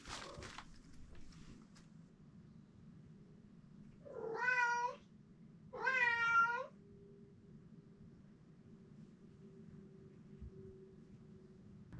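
Two drawn-out Maine Coon meows sound in quick succession indoors over a steady low hum, loud and close, with a brief scuffle at the start and quiet afterward.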